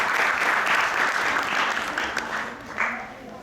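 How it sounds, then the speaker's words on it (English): An audience at a Sunday feast lecture applauds the speaker, a short burst of dense clapping from a gathered crowd that tapers off after a few seconds. "Please give a round of applause for Nandamaraj Prabhu"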